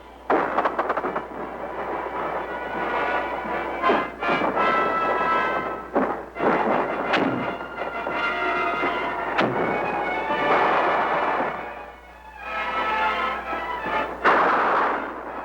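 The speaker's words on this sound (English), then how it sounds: "When the big guns of the fort were called in for support and the heavy lead began to fly" Heavy artillery from a fort's big guns fires in a combat setting in Vietnam, loud repeated booming blasts and rumbling over a dense roar, with several sharp reports scattered through the stretch.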